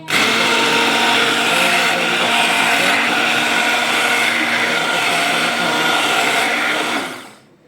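A blender crushing boiled lentils, potato and bottle gourd, a loud steady whirring motor that runs for about seven seconds and then winds down to a stop.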